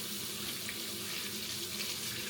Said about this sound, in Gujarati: પેલા રાઈસ ધોઈ નાખીએ અને પછી એક ડીશમાં સાઈડમાં રાઈસ મૂકી દઉં અને દાળ ધોઈ નાખું